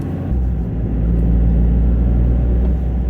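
A Toyota GR Corolla hatchback's turbo engine drones with a steady, loud low rumble from inside the car, a continuous boosted hum without pauses.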